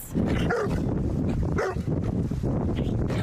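A large St. Bernard dog barks and yips repeatedly, loud and close, with whimpering between the barks against a busy background.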